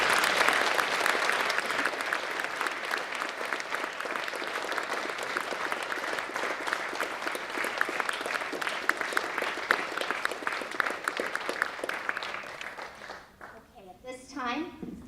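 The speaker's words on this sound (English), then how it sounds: "a round of applause" Students at a Veterans Day ceremony give sustained applause for roughly thirteen seconds, a steady crowd of clapping hands that fades near the end as a voice begins speaking.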